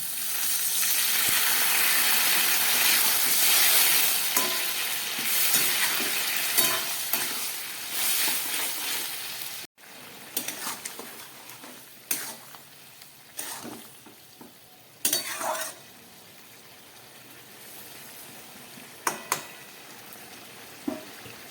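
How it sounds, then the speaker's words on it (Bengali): Water poured into a pan of ridge gourd, potato and poppy seed curry sets off a loud hiss and sizzle that gradually settles into softer bubbling, with occasional stirring scrapes and clinks of the spoon on the pan. "এবার আমি দিয়ে দিচ্ছি এর মধ্যে মশলা ধোয়া বাটির একটু জল।"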